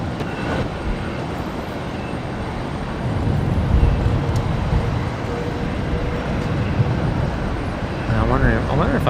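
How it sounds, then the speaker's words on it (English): Jetstar Airbus A321 arriving to land at Brisbane Airport, a loud continuous jet roar that swells midway, with voices talking over it. "Jetstar 822 just cleared to land. The 321 Classic coming in from Sydney next."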